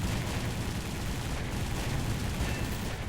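Machine guns on a Ki-43-II fighter in War Thunder during a diving dogfight, firing as a steady loud rattling burst that dense engine and wind roar mostly covers, with no talk.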